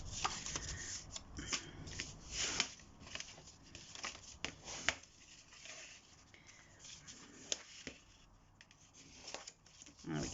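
Paper card stock is pushed together and folded while making a Mother's Day stepper card, giving soft close crinkles, rubs and small taps spread across the span, with a voice speaking quietly over parts of it.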